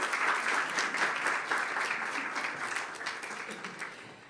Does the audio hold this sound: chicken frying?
no